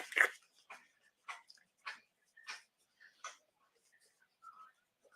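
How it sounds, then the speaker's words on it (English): A dog slurping from a bowl somewhere across an indoor room, a string of short, faint wet laps in an irregular rhythm with quiet gaps between them. "You hear my dog over there slurping."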